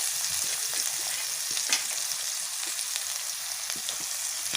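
Raw onion hisses in hot oil alongside garlic and ginger paste for a jackfruit seed curry, a dense, steady, close sizzle with faint scraping ticks of stirring throughout.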